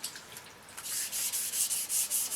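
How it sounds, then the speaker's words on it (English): Sanding road grime off a motorcycle exhaust pipe by hand, a steady close-up rasping rub that settles into rhythmic back-and-forth strokes, with no talking. "You probably don't want to watch me sanding this for the next 15-20 minutes."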